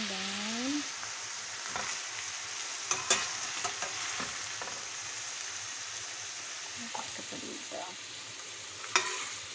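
Minced pork and eggplant stir-frying in a pan over low heat, a steady sizzle with occasional scraping stirs and clicks of the utensil, close and continuous with no talking.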